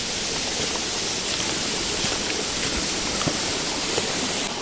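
Mountain stream in the Qinling Zhongnan Mountains, a steady, full rush of flowing water close by, continuous and unbroken with no voices.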